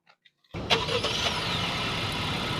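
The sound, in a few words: Honda HR-V e-Turbo engine starting by remote key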